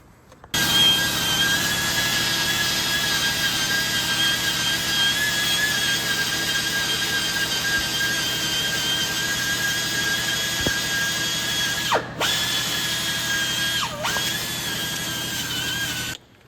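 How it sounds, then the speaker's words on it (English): A small angle grinder works on exhaust manifold studs of a 2003-2024 Dodge Ram 1500 5.7L, whining loudly and steadily for about fifteen seconds, with two brief dips in pitch as it bears down before it stops. "And I just used my little angle grinder"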